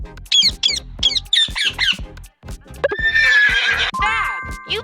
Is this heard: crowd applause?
no